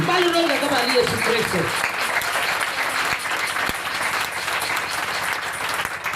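A church congregation applauding Jesus during an evening preaching service, dense sustained clapping from a large crowd with a voice and other vocal sounds over it at the start, steady throughout.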